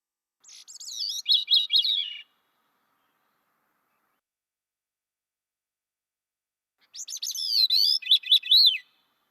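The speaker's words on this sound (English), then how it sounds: "And the gray cheek goes upward and then down." Two phrases of a gray-cheeked thrush's song, each a series of airy, spiraling whistled notes rising then falling, separated by several seconds of silence.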